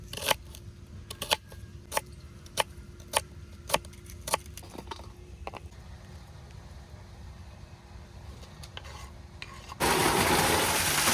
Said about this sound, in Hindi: सबसे पहले प्याज कट करेंगे।